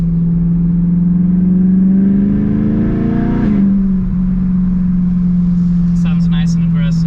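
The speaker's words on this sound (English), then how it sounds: "upshifts do sound good on the standard" A BMW M3's engine with dual-clutch transmission climbs steadily in pitch under acceleration, then drops sharply at an upshift and keeps pulling; loud, with a voice briefly heard near the end.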